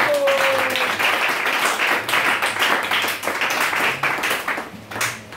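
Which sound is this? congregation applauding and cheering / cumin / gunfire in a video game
congregation applauding and cheering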